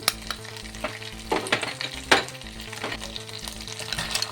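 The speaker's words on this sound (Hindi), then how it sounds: "अब मेरा ऑयल गरम हो गया है। अब मैं इसमें ऐड करूंगी जिंजर गार्लिक पेस्ट।" Ginger garlic paste and asafoetida sizzle loudly in hot oil in a pan, a steady crackling fry with sharper bursts and spatters as the paste hits the oil, close up with no talking.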